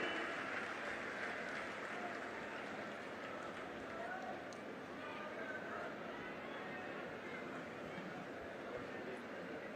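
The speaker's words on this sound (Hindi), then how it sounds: "सभी की जोरदार तालियां।" A large crowd at an outdoor public ceremony in Amroha claps continuously, a dense, steady wash of applause lasting the whole stretch without breaks.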